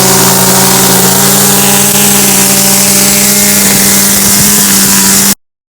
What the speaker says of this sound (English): wherever the mower will cut the grass, I use the mower so that my height stays consistent